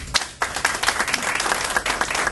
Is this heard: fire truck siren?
no